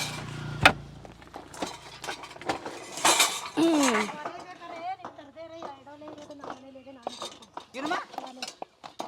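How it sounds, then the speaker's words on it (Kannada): Cooking vessels for a wood-fired outdoor stove are set down with sharp metallic clanks and clinks, loudest early on, while people talk over them. "ಈಗ ಪಾತ್ರೆ ಹಾಕ್ತಾ ಇದ್ದಾರೆ"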